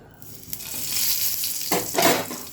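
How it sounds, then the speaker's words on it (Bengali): Eggplant pieces rubbed with salt and turmeric sizzling in plenty of hot mustard oil, a steady close frying hiss with sharper crackling bursts as pieces are moved. "এখানে আমি নুন হলুদ মাখানো বেগুনটা ভেজে নেব।"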